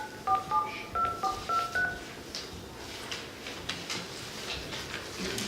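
Telephone keypad tones dial a number on a speakerphone in a council meeting room, a quick run of short beeps in uneven rhythm, then quiet room noise with faint shuffling.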